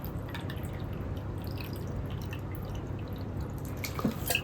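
Water drips and trickles steadily into a homemade air cooler built from a plastic bottle, a continuous light patter with a few sharper drops near the end.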